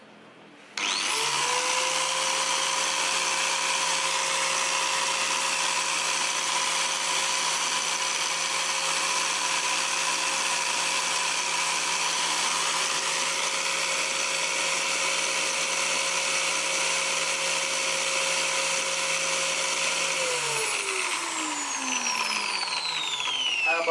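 A Stanley STGT5100 angle grinder starts up and runs at full speed with a steady, loud, high whine that holds for about twenty seconds, then spins down near the end.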